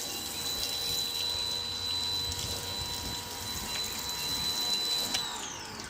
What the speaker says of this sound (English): If we actually flood the panel, very quick to sheet.